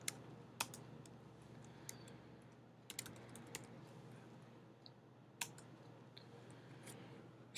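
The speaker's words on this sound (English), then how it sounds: "Now we're going to type swirl to begin." Someone types on a computer keyboard in a quiet room, with scattered, irregular keystrokes and a few sharper clicks over a low steady hum, close and fairly soft.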